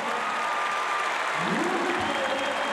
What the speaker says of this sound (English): Applauds his foe